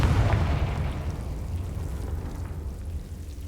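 A Confringo explosion spell goes off in Hogwarts Legacy, a single rumbling boom that bursts loudly at the start and then fades into a long, low decaying roar.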